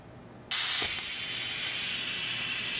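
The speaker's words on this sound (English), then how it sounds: "So we're going to come down on the bottle, pick it up, see what kind of vacuum reading we get here on this gauge here" A Piab vacuum gripper switches on to pick up a juice bottle, starting with a sudden loud hiss of rushing air that holds steady to the end.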